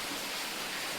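Heavy rain pours steadily in a broad, even hiss with no breaks, alone and without voices.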